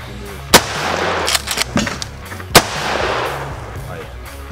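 Two sharp, loud shotgun blasts ring out a couple of seconds apart during tactical training, with smaller clicks and rustling in between against outdoor background noise.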